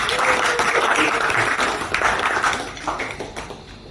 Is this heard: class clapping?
yes